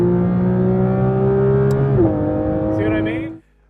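Porsche 992 GT3 RS engine holding a steady high-revving drone, stepping down in pitch partway through and then cutting off abruptly, loud and close, with a person talking.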